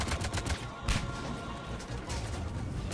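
Rapid assault rifle fire in the sci-fi shooter Mass Effect 3 crackles in dense, repeated bursts of gunfire over a constant rumbling combat backdrop.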